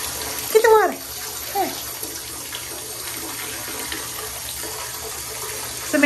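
A tap runs water into a bathtub while a pitbull and a pug are being bathed, a steady faint stream with a few brief splashes and bumps near the start and end.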